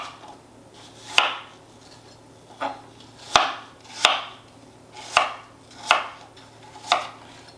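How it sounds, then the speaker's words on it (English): A knife chops a peeled apple into smaller pieces on a board, seven or eight crisp, evenly spaced cuts, close and clear with no talk. "And then you're going to just chop it up into smaller pieces"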